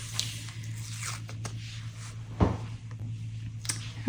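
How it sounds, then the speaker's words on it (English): Painter's tape is pulled off a finished painting with a short, crisp tearing rip. Fainter rustles and scrapes come before and after it over a low steady hum. "Now I'm going to take these tapes off."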